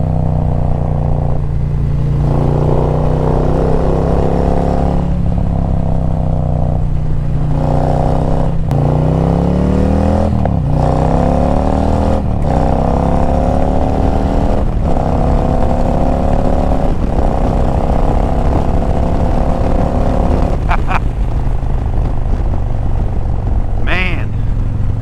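A Harley-Davidson Street Glide motorcycle is ridden hard, its engine loud and close, climbing through rising revs with repeated gear shifts and dips throughout.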